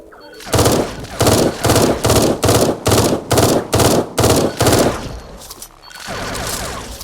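Rapid automatic gunfire in the video game Eden Star, about a dozen loud, evenly spaced bursts in a steady rhythm, close and dominant, followed by a short pause and a softer rumbling tail.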